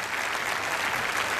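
Steady, dense applause from an audience at a concert in Chile honoring a Chinese community choir, sustained and fairly distant without a break.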